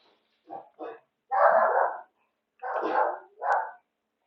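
A dog indoors barks in a short close burst: two quick yips, then a longer gruff bark, a pause, and two more loud barks, each sharp and clear with silence between.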